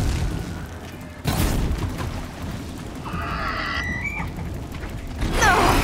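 In Horizon Zero Dawn, a sudden deep boom breaks out over steady game ambience, followed by mechanical clanks and whirring machine sounds, with a second burst of noise at the end.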